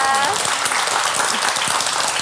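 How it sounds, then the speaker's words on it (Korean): A studio audience at a Korean TV show claps in sustained, dense applause, with a few lines of talk over the start. "지금처럼 계속 행복하게 사시라고 우리 박수 좀 보내드리죠."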